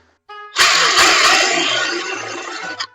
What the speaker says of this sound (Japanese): はい、では一応穴開けていきます。